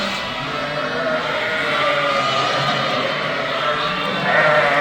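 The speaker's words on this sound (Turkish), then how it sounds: "Şu anda koyunla kuzunun buluşma anı." Sheep and lambs bleat steadily as ewes reunite with their lambs in a farm pen, many overlapping calls forming a loud, continuous chorus from a large flock.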